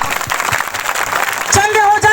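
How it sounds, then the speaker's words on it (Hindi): A congregation at a live Christian prayer meeting claps loudly and steadily, a dense, sustained applause that swells toward the end while a preacher's voice carries over it. "ताली बजा जोर से।"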